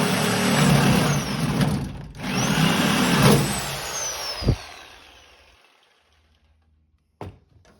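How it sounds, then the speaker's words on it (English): A Sawzall reciprocating saw cuts through the steel frame of a 1979 Chevrolet Silverado, a loud continuous buzzing grind that stops briefly, resumes, then dies away into near silence before a short clunk. "really hold on to the Sawzall tight"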